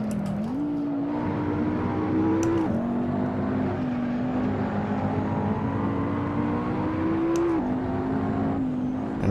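McLaren MP4-12C engine in Assetto Corsa racing, a loud steady drone with the pitch climbing through the gears and dropping sharply at each upshift, sustained and close throughout with no talk.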